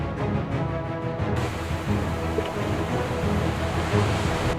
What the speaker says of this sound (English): the vast Pacific Ocean churned with waves